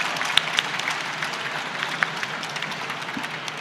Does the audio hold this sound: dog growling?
no